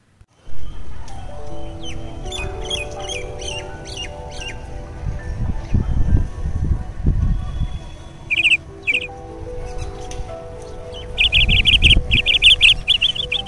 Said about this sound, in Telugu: అదే మా అమలాపురంలో ప్రొద్దున్నే లేవగానే పక్షుల కిలకిలా రాగాలు